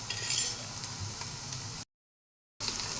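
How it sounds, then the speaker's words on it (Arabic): Garlic, onion, carrot and basmati rice spices sauté in a pan with a soft, steady sizzle and faint stirring, close up, broken by a short silent gap before the frying sound resumes. "نشوح بقى البهارات مع البصل مع الثوم مع الجزر"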